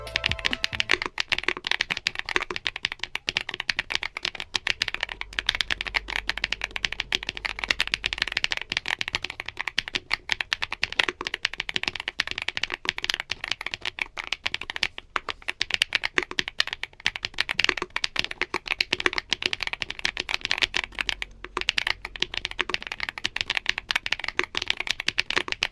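Steady, close-up typing on a fully built WOBKEY Zen65 Ultra mechanical keyboard with its keycaps fitted, a dense run of clacky keystrokes that continues throughout with no talking.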